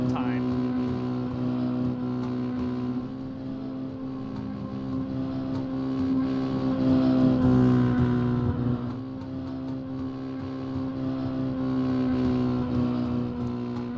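Dirt rookie mini stock race cars lap Slinger Speedway, a steady engine drone swelling and fading as cars pass, with an announcer talking over it.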